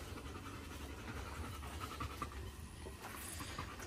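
A dog pants quietly and continuously nearby, with quick, even breaths in a soft, steady rhythm and no voices alongside.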